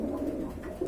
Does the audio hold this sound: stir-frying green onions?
no